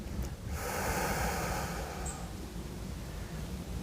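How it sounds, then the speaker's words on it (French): A slow, steady exhale during a sophrology breathing exercise for anxiety, heard as a long, soft, close breathy rush of air with no talking. "Et ensuite, on souffle doucement."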